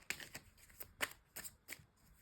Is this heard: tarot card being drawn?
yes